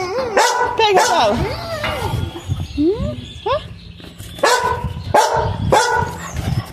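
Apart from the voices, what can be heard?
puppy dog barking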